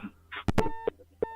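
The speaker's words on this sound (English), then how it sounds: "These phones and them ringing off the hook." Telephone line signals on a call-in radio show, short tonal beeps and dial-tone bursts in quick irregular succession, brief and fairly quiet with no speech.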